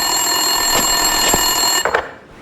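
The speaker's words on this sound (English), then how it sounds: "Winterson's phone was ringing" Office phone ringing in Max Payne 2, a steady electronic trill with bright sustained tones under a game background, ending with a couple of sharp clicks as the ring cuts off and the sound fades.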